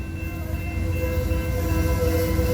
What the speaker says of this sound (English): It's a freaking Amtrak train